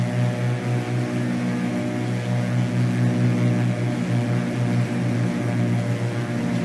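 Twin engines of a Beechcraft Baron 58 at full throttle in the FSX flight simulator hold a steady, loud, droning hum that runs without a break.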